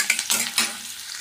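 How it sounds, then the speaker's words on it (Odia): Onions sizzle in a hot pan for egg curry, with a few quick stirring scrapes in the first half and a steady frying hiss trailing off afterward, close up with no talking. "ଟିକେ ପିଆଜ ଜାଳିଦେବା ହାଲକା ହେଇଯିବ"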